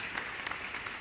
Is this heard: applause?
yes